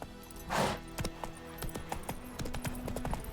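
Horse hooves clip-clop in The Witcher video game, a steady run of distinct, fairly close hoofbeats with a brief whooshing burst near the start, with no talk.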